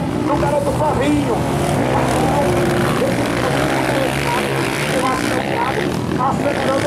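Velocross motorcycles at an amateur race track in Paraú, Brazil, rev and accelerate with a continuous buzzing engine drone under an excited announcer's commentary, the engine tone rising and wavering across the whole stretch.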